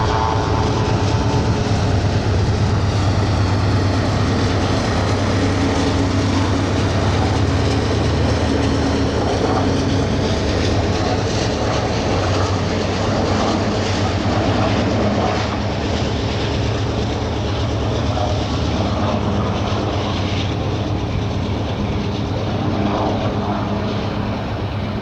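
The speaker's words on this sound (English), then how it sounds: "Now the train's speeding up." A train accelerates along the tracks near Boston Bar, a steady, loud rumble and roar that holds throughout with a faint mechanical drone, heard from a distance outdoors.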